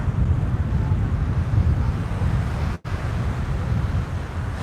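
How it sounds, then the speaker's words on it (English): Strong wind buffets the microphone on the Alcudia seafront in Mallorca, a steady low roar with surf-like rushing throughout and a brief dropout near the end. "it's quite windy down here"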